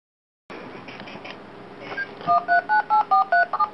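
A rapid series of about nine telephone keypad DTMF beeps, loud and close, punches through a phone menu on a call line, following a stretch of hissy line noise.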